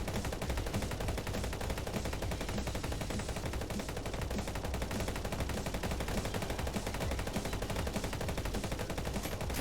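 Sustained, rapid automatic gunfire from the video game Speed Limit, dense and continuous for nearly ten seconds with no pauses, loud and overlapping.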